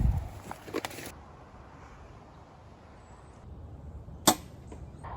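A bow shooting arrows while sighting in at Platte Falls: a sharp release snap near the start and another crisp thwack later, separated by quiet outdoor wind noise.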